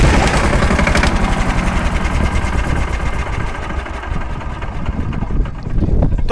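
A homemade jugaad mini tractor engine runs at a farmhouse, a loud, steady chugging drone with a fast, even pulse that continues throughout, close to the microphone.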